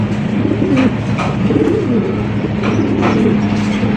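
Lahori and Shirazi pigeons coo close by in soft, rolling, repeated calls over a steady low background hum, with no talking.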